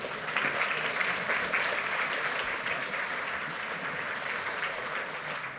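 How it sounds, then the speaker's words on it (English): A conference crowd at Zabbix Summit 2023 claps as the four-person initMAX team walks on stage, a fairly faint, even wash of applause heard from a distance and holding steady throughout. "Okay, applause them, please."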